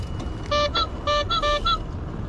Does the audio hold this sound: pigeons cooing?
no